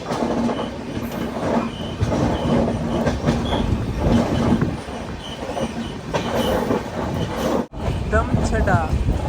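Garib Rath Express runs through a station on a hilly route, with continuous loud rumbling clickety-clack of wheels on rails, brief squeals and a sharp dropout near the end.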